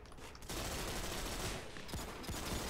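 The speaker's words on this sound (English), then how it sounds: "Shots coming through the windows, it looks like, or they're impacting, not making it through." Dense, rapid gunfire in the video game Ghost Recon Online, with shots impacting windows, a continuous loud fusillade starting abruptly after a brief quieter moment.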